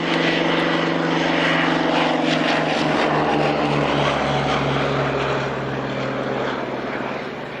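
Propeller aeroplane engines drone at the 1998 Duxford Flying Legends airshow, a loud, steady throbbing roar with a low pulsing beat that eases slightly in the final seconds.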